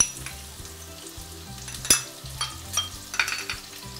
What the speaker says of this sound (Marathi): तेल गरम झालंय, आपण ह्याच्यामध्ये आलं लसणाची पेस्ट, 1 टेबलस्पून आलं लसूण पेस्ट आणि हिरवी मिरची।